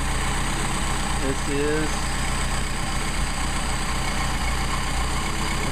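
A Mercedes 190SL engine idles steadily during a carburetor test, a loud, even rumble with constant hum that runs the whole time, while someone talks briefly over it close by.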